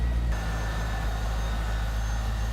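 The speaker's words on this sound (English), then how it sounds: "The Z06 titanium exhaust." Low, steady rumble from the Z06 titanium exhaust on a 1998 Chevy Corvette convertible, a continuous idle drone with no speech.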